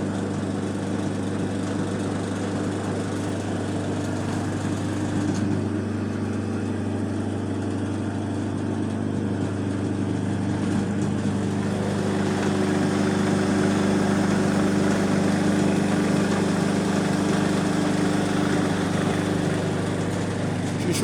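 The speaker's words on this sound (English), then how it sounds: "another one of the 3-phase motors. This is 5 horsepower. She seems to be running quite well." A 5 horsepower three-phase induction motor runs steadily under test, giving a continuous loud hum with strong low tones and a broad mechanical whir, with no talking over it.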